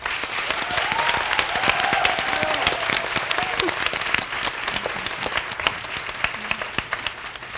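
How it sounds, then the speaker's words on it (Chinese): A theatre audience gives warm, sustained applause for the actors after a stage performance, dense steady clapping from a sizeable crowd that carries evenly throughout with no pause. "请让我们再给演员们一次热烈的掌声吧"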